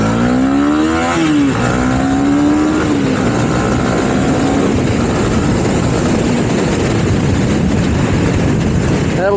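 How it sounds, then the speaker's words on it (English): A 2019 Honda CB300R motorcycle engine revs up and shifts through several gears, pitch climbing then dropping, under steady road and wind noise throughout. "I don't know if you could hear that engine going up through the gears there"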